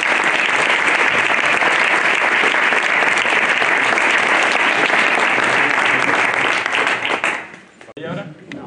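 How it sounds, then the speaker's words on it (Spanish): An audience at a local history talk in Dos Torres, Córdoba, breaks into loud, sustained applause that holds steady for about seven seconds, then fades out to quiet. "Venga, un aplauso."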